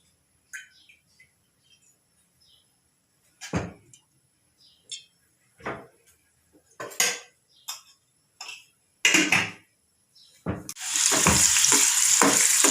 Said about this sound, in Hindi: अब हम मटर अच्छे से फ्राई करके लेंगे।